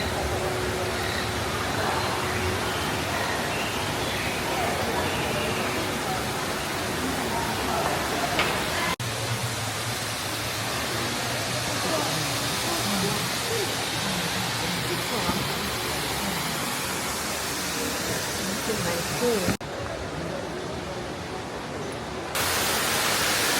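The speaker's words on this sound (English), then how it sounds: "there's a waterfall behind me" Steady broad rush of a waterfall at Gardens by the Bay in Singapore, continuous and fairly even throughout with a slight shift in tone partway, no distinct events standing out.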